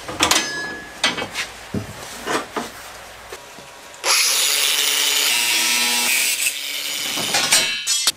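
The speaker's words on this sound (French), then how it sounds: "Donc là j'ai percé à 12" A drill bores a 12 mm hole in metal with a steady high grinding whine for about four seconds, preceded by scattered knocks and handling clatter in a workshop.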